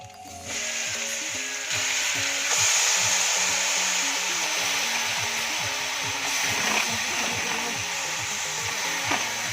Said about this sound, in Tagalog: ilalagay na natin yung ating mushroom doon sa ating kawali